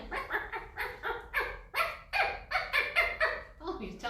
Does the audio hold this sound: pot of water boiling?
no